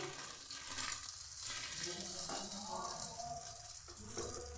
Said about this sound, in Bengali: তার মধ্যে আরেকটু তেল দিয়েছি দিয়ে দিচ্ছি ঘোলা ডিম